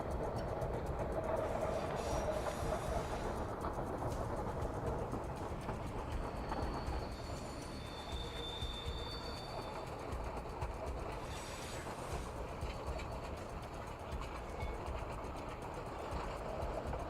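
Train rolling steadily along the rails, a continuous loud rumble with a rhythmic clatter of wheels and faint high squeals, heard close up with no talking.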